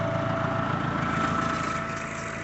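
A tractor-driven Jarmet 12 metre sprayer, partly filled with water, runs with a steady droning engine and pump hum, fairly loud and constant with a slight fade near the end.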